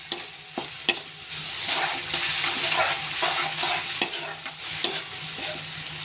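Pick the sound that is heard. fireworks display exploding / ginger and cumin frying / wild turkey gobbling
ginger and cumin frying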